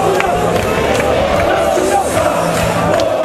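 A packed football stadium crowd celebrates NK Maribor winning the Slovenian national championship, a loud continuous roar of cheering, shouting and chanting that fills the whole stretch without letup.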